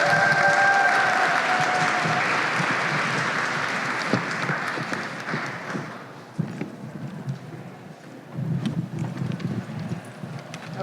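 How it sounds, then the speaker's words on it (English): An audience at an Asian community celebration event gives loud sustained applause that thins and fades over several seconds, then swells again briefly near the end, with no talk over it. "let's give them all a warm round of applause"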